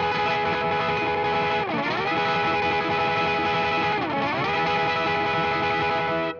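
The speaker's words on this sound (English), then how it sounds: "slide into that chord and use a technique called tremolo picking" A distorted electric guitar plays rapid tremolo picking on an E bar chord, with two audible slides dipping into the chord; the sustained, effects-laden tone is loud, close and heard alone.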